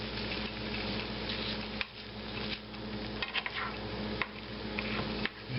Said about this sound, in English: just break an egg in there and start scrambling it around